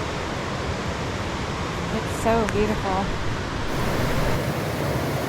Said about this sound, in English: This is our campsite where we're at, right by the Hoh River